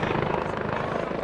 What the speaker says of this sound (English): We have a helicopter landing here close to the field.